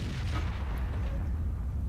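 An artillery shot fires in World of Tanks, a heavy low boom with a rumbling tail that fills the short stretch at steady loudness, with no talk over it.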